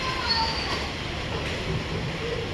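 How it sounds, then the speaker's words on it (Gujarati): Heavy rain driven by strong wind pours over Mota Varachha in Surat as an unbroken, dense, loud wash of hiss and roar with no pauses. "જોરદાર વરસાદ ચાલુ છે અત્યારે"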